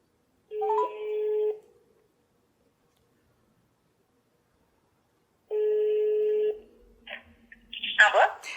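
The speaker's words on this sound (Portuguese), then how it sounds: "Vamos lá, vamos tentar falar com a Laura, então." A telephone call being placed: two long electronic ringing tones separated by a pause of several seconds, followed by a click and soft handling noise as the line is picked up.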